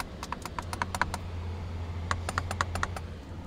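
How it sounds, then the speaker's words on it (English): Metal paddle shifters on a 2022 C8 Corvette click in quick, light, close taps, some in rapid bursts and others spaced apart, over a faint low hum inside the car. "Like the paddles, and they feel really good. Like the click,"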